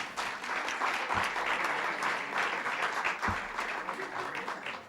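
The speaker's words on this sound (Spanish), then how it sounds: "Dale un aplauso, que si no, no va a salir." An audience claps steadily throughout a book presentation event, with sustained, fairly quiet applause and no pauses.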